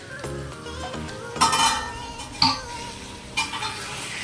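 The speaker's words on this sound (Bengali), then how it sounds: "এবার আমি ঢাকাটা খুললাম" A cooking pot of lau chingri, bottle gourd with prawns, is uncovered: a sharp metallic clank of the lid at the start, then a few more clinks and light scraping over a soft simmer, close by with no talk.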